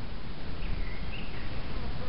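Honey bees swarming around backyard hives in mid-March, a dense continuous buzzing hum that fills the whole stretch, close and fairly loud, with no clear talking.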